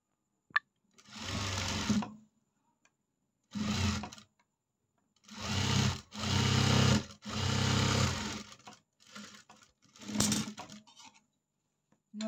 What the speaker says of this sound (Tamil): இன்னொரு பட்டியும் இந்த மாதிரி ஸ்டிச்சிங் போட்டு முடிச்சிடலாங்க.